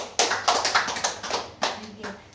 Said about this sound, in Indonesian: Kita kasih tepuk tangan dulu untuk Bu Wati.